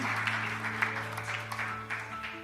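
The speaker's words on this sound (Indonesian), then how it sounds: "Tepuk tangan sekali lagi dong buat Pak Okto dan Bu Silvi." Clapping from the congregation at a church wedding ceremony, a dense, even patter of many hands filling a couple of seconds.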